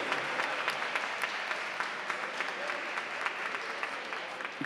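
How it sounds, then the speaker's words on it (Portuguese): Steady applause from an assembly audience at a legislative session, honoring youth parliamentarians, with dense clapping throughout and no talk over it. "a gente já pode dar a primeira salva de palmas"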